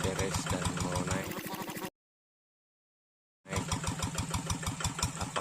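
A tractor engine labors on a rocky road, a loud, dense mechanical drone broken by a brief total silence before resuming just as strongly.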